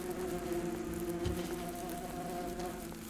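Bees buzz at an underground nest, a close, steady drone with a clear pitched hum lasting a few seconds, no talking.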